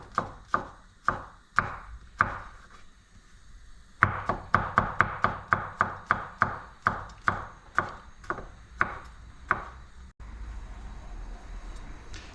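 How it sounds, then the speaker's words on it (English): Knife slicing garlic very thinly on a chopping board: a long run of crisp, close knife strikes landing on the board in quick, fairly steady succession, pausing briefly before a faster burst, with no talking. "continuing with the garlic, cutting very thinly."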